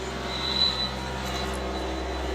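A KIOTI tractor engine drones steadily at a constant high idle of 2,500 RPM during DPF regeneration, with a faint whine on top and no talking.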